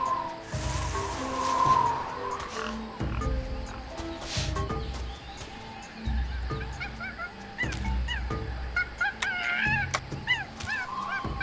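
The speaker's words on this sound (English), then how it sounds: "That jungle sure is noisy." Dense jungle ambience in Tales of Monkey Island, with repeated chirping bird calls and croaking, honk-like creature cries layered over a steady low rumble, fairly loud and busy throughout.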